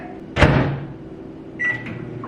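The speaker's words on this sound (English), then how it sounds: "I'm just gonna pop this into the microwave and heat it up really quick." Microwave oven heating a salmon bowl with sweet potato: a sharp door clunk, then a low steady hum with a brief beep-like tone later on, close by.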